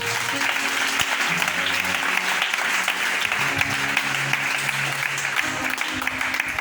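A church congregation applauds and cheers the Lord, steady sustained clapping from a crowd with voices mixed in throughout, fairly close and continuous.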